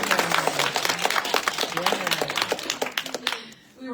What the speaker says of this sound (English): let's just take a moment and give a round of applause to Jimmy for being here today